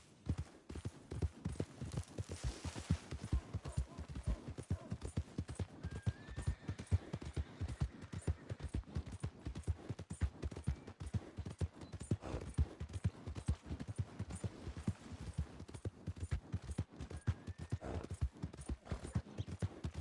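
Horse hooves clip-clopping in the video game Red Dead Redemption 2, a steady, rhythmic trot of crisp hoofbeats lasting the whole stretch, fairly quiet, with a brief whinny and a few faint voices.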